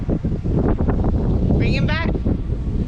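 Heavy wind roars across the microphone, with a brief voice cutting in near the end.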